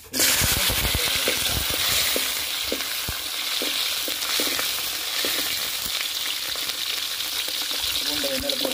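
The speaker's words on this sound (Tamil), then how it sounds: "பூண்டை எண்ணெயில் போட்டு வதக்கிட்டு இருக்கோம்." Garlic sautéing in hot oil in a kadai, a steady loud sizzle and crackle running throughout with occasional stirring clinks against the pan.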